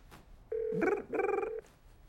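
A telephone rings with two electronic trill bursts close by, separated by a short gap, fairly quiet otherwise.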